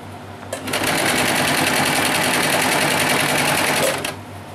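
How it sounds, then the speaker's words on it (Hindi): A sewing machine stitches double-layer net fabric for a small doll dress, running loud and close in a single continuous run of about three and a half seconds with no talking. "अब इसको मैं कंप्लीट सिलाई लगा लूँगी।"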